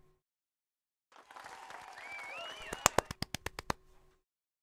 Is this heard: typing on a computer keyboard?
no